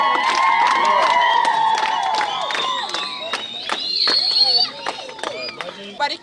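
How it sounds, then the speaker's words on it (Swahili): An audience at a community gathering in Nyamira, Kenya breaks into applause and cheering, a dense roar of crowd voices with high whistles and shouts that stays loud for several seconds before thinning out toward the end. "Makofi"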